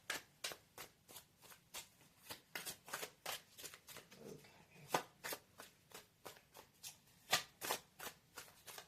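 Tarot cards being shuffled in rapid, rhythmic riffles, a steady run of crisp close-up slaps and flutters, with a brief spoken word partway through.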